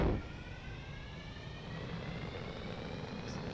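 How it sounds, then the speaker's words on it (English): Aircraft engines spooling up in the Stormworks flight game, a steady broadband roar with a faint high whine that holds level after a brief louder onset, with no talk over it. "Starting up the engines."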